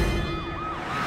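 The siren of a broken-down ambulance gives a brief wailing sweep, rising and falling once over a low background rumble.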